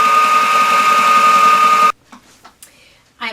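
A sewing machine stitches outdoor patio cushion fabric in a steady, loud, rapid mechanical hum for about two seconds, then stops, followed by brief quiet handling noises and the start of a voice.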